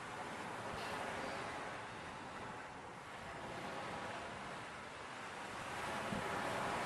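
Night sea waves washing onto a shore in the game Coconut Simulator 2, a steady, soft wash of surf with faint wind noise, continuous and even with no voices.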